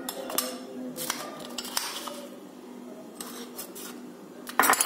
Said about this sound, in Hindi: यहाँ पे ऐड करेंगे क्रश्ड आइस